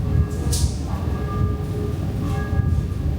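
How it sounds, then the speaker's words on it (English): Bells ring out in the distance in Paris, their tones sustained and overlapping above a low rumbling background of traffic or trains. "the bells were outside ringing"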